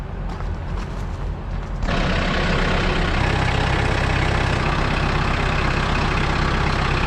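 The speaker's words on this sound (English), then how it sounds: "now I have to load said tractor on the trailer" A Kubota tractor's diesel engine idles and then revs up sharply after about two seconds, running loud and steady at close range while the tractor is loaded onto a trailer.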